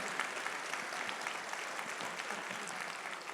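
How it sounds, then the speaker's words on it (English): An audience at an evening event honoring the 70th anniversary of Brown v. Board of Education applauds in a steady, dense patter that sounds somewhat distant and fairly soft. "We got to clap for that stuff"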